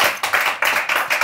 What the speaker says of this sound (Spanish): Así que apláudanle un chingo.